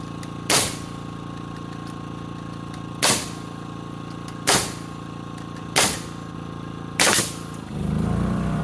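Pneumatic nail gun fires five sharp, separate shots while a 2x4 post is tacked into place on an RV barn build, spaced a second or two apart against a steady hum, up close and loud.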